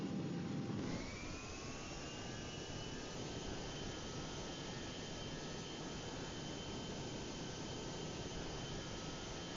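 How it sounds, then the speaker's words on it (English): Jet airplane engine during takeoff in the flight simulator game GeoFS, a steady loud roar with a rising whine that settles into a constant hiss and hum, continuous and unbroken. "So now we're going to take off with this plane."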